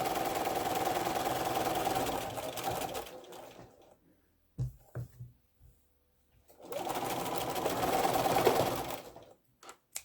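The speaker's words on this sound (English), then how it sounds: "you want to take a couple stitches and then back stitch at the top and the bottom so that they don't separate" Sewing machine stitching quilt block pieces for a pink patchwork block, running in two steady bursts of rapid stitching with a brief pause of short back-stitch clicks between them, close and loud.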